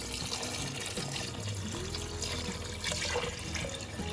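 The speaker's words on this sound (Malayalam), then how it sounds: "ഞാൻ വെള്ളം ഒഴിച്ചു കൊടുത്തിട്ടുണ്ട്" Steady stream of hot water pouring into a pot of rice for meat rice, continuous and close, with a splashing, gurgling texture and no talking.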